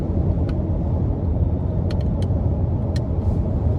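Continuous low engine rumble of a 2024 Nissan Frontier Crew Cab pickup's V6 accelerating, steady and fairly loud, with a few faint high clicks over it.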